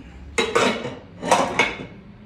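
A spoon scrapes and clatters against a dish while fish pie filling is stirred, in two short bursts of clinking and scraping close by.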